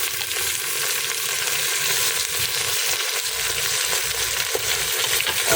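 Mutton pieces frying lightly in hot oil with whole spices, a continuous, fairly loud sizzle with small crackles and spatters throughout, no talking.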